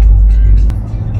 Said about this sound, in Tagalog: Apat na sasakyan. Sinusundan namin,